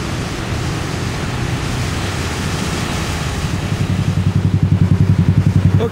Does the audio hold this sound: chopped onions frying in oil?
no